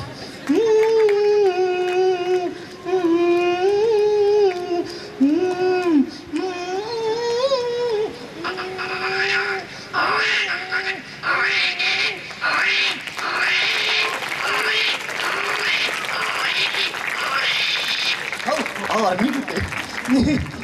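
Mimicry of a crying baby and a mother humming a lullaby at the same time, performed live at a school event: wavering sung hum with wailing cries, then rising applause from the audience in the latter half.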